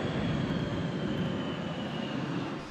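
Canadian CF-18 fighter jet roaring steadily as a loud, continuous engine rumble, close and sustained without any talk over it.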